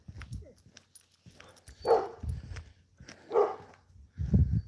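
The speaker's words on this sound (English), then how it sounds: "There's another doggy." A dog barking twice at a distance, separated by a pause, with faint low rumbling background noise between the barks.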